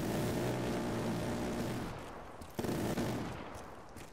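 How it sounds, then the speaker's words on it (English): In Black Ops 3 zombies, the Death Machine minigun fires a sustained, dense roar of rapid gunfire, loud and continuous, then briefly drops off before a short renewed burst near the end, with no talking over it. "Another death machine? Really?"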